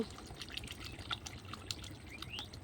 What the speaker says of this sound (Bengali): এবার আমি একটু অল্প পরিমাণের পানি দেব